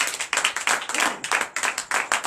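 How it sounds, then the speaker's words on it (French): A congregation claps at a Friday night deliverance and prophecy church service, in loud rhythmic bursts of hand claps that swell and pause in an uneven beat, with no talking. "Donnez l'acclamation."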